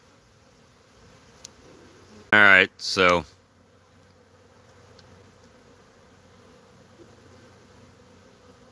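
Honey bees hum faintly and steadily around a hive box in the background throughout. A person speaks briefly and close by partway through.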